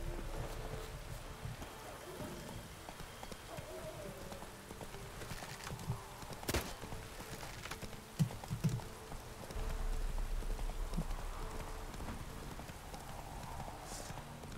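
Horse hooves clip-clopping in The Witcher 3 video game, a faint, steady rhythmic trot under quiet game ambience and wind, with a voice speaking briefly.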